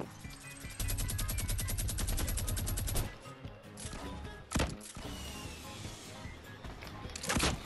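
Gunfire in Fortnite Battle Royale: a fast, loud automatic burst rattles for a couple of seconds, then scattered single shots and a sharp crack follow amid game noise.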